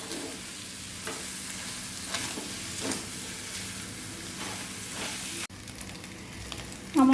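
Mashed boiled potato is stir-fried in a pan, giving a soft continuous sizzle broken by repeated spatula scrapes. The frying cuts out abruptly near the end, leaving quieter background noise and a brief bump.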